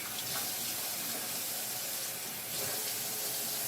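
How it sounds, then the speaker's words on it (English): Tap water running steadily into a cooking pot of smothered riblets, a close continuous hissing splash with a slight shift in pitch midway, and no talk. "I might add a little bit more water to this."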